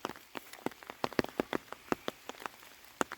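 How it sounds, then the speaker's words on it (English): Light rain pattering on a OneTigris Backwoods Bungalow 2.0 tent, with sparse irregular drops tapping the fabric, quiet and close. "this rain is not enough rain for a full test"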